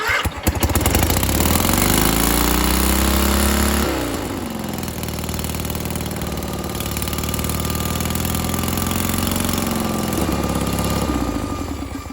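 A 1984 Tuff-Bilt tractor engine with a faulty throttle runs continuously close by, a steady loud chugging idle whose pitch shifts and dips slightly around the four-second mark before settling into an even drone.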